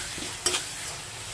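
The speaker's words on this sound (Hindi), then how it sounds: "अभी इसे हम अच्छी तरह से हिला लेंगे।" A spoon stirring spice masala with turmeric and salt in a pan for a chicken dish, a soft steady sizzle with one brief scraping stir near the middle, close and quiet.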